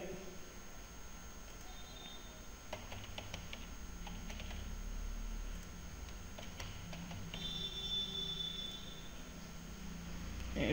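Someone types a web link on a computer keyboard, producing quiet, irregular clusters of key clicks and taps beneath a faint steady background hiss, with no speech heard.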